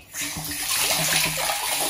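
Water gushes steadily from a pump run by an Elephant EPC-4 automatic pump control, a close, continuous rushing splash with no speech.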